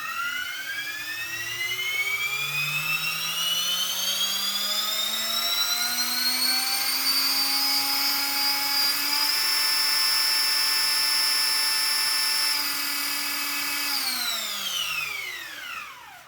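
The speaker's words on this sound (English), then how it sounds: "let's just spool it up and spin it one way" An RC helicopter motor driven by a reversed Hobbywing ESC spools up, its rising whine climbing steadily in pitch, holding a loud high tone, then winding down at the end.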